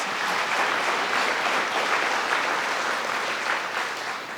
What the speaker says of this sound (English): Yes, that deserves a big round of applause.